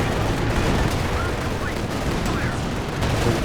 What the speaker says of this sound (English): It's a solid Katyusha this time around. He's managing to run past most of the rockets though.